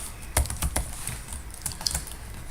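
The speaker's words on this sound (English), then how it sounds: "At the very top, right next to Lambert, type in my title." Brief bursts of clicky typing on a computer keyboard, close and fairly quiet, with a few sharper keystrokes among softer taps and no talking.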